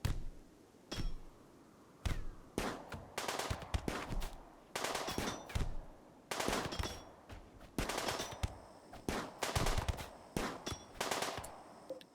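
Gunfire in the colony sim RimWorld: sharp, separate bursts of shots in irregular clusters, some quick rattling volleys, with quiet gaps between them and no talking.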